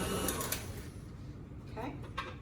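An electric mixer whirs steadily through thick cream cheese pound cake batter, a continuous motor drone with a few brief scraping accents toward the end.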